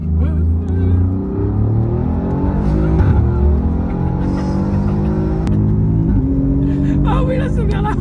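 An Alfa Romeo Giulia Quadrifoglio with its 510 hp engine revs hard under acceleration, a loud, steady, rising drone inside the car, while people talk over it.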